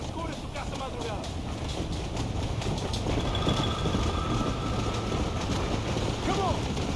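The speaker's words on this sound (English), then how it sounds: "There is a train." A steam-era train in the Red Dead Redemption video game rumbles and clatters steadily along the tracks, a constant rolling roar with brief squeals, while voices talk over it.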